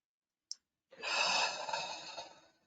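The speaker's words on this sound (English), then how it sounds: "okay, breathe." A single deep breath taken slowly during a therapy exercise: one short click, then a long, soft exhale that fades out, close and alone in a quiet room.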